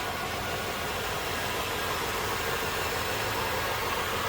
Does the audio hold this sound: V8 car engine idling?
yes